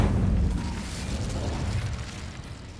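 A fiery Incendio spell blast erupts in Hogwarts Legacy, a loud booming whoosh with a heavy low rumble that stays strong and roiling for a few seconds, with no talk.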